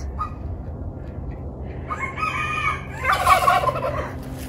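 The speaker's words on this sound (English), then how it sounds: "Yes, we have a new goose." A rescued goose gives loud, nearby honking calls, a few harsh cries building to a louder burst near the end, with no voices.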